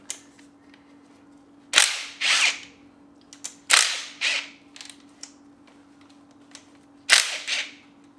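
Bolts on the engine cover of a Kawasaki ZRX1200R motorcycle being loosened with a power tool, giving sharp rattling bursts in short clusters separated by pauses, close up over a steady low hum.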